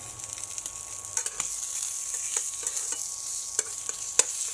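Sous vide beef brisket, slow cooked for 36 hours, sizzling in a frying pan with a steady hiss and scattered crackling pops as a spatula scrapes and moves it, close and alone without talk.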